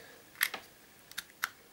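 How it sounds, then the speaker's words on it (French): A keyboard's USB connector is pushed into a Nintendo Switch dock port: a few sharp, quiet plastic clicks and scrapes, close and isolated, with no talk. "Vous branchez directement l'USB de votre clavier ici."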